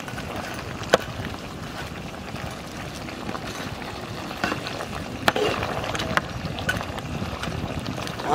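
Fried vola fish stirred into a sizzling mixed-vegetable curry, a steady low bubbling sizzle with scattered sharp clinks of a utensil against the pan throughout.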